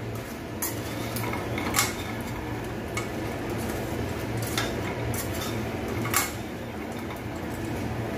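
Soya chunks are mixed into a manchurian mixture, producing a low steady hiss under scattered metallic clinks and scrapes of a spoon against the vessel, close and moderate in level.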